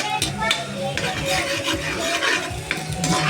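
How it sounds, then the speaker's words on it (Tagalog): Garlic browning in a pan for Bicol Express is stirred with a utensil, giving steady scraping and clinking with soft sizzling underneath, continuous and close throughout. "Kailangan natin muna mag-brown-brown yung bawang"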